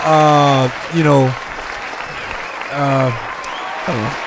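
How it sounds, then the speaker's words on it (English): A few podcast hosts clap briefly in a small room, the short bursts of applause falling between stretches of their talking. "let's just clap it up for being on time one more time"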